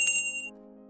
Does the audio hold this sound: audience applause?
no